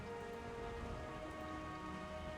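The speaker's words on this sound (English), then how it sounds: "so you guys go to sleep, and it's raining outside" Steady rain falls outside over a town at night as background ambience for a Forbidden Lands tabletop role-playing session, an even, continuous patter with no voices.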